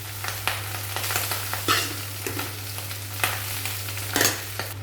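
Boiled rice is tossed in hot ghee with whole cumin in a pan, a gentle sizzle with repeated scraping and clattering stirs at an uneven rhythm, close up over a low steady hum.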